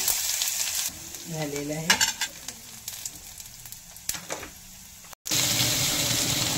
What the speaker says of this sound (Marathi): तेल गरम झालं का म्हणून मी मोहरी घातलेली आहे, थोडा जिरा घातलेला आहे, लसूण जिरा अद्रकचा पेस्ट घातलेला आहे